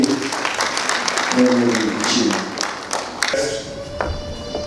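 Audience at a graduation ceremony applauding to welcome the chief guest, a steady wash of many hands clapping, with a few sharp taps and thumps near the end and talk mixed in.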